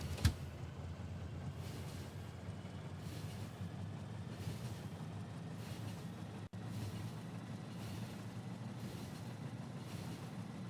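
A train moves through a video game base, heard as a steady low rolling hum that lasts throughout, with a brief click at the start and no talking.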